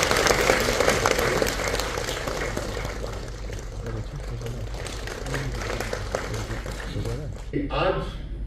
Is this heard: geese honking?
no